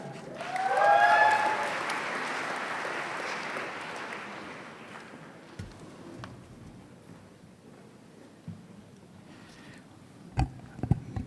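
An audience applauding graduates at a Swinburne University graduation ceremony, December 2021: a burst of clapping swells in the first seconds, then thins and fades into a quiet hall broken by a few scattered knocks and bumps.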